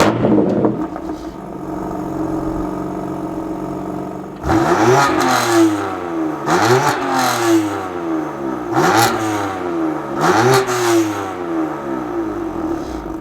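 A San Marino Blue BMW M4 CS with DCT transmission in Sport Plus accelerates hard while driving, loud and near, with several rising engine revs broken by quick gear shifts, after a steady idle-like drone at the start.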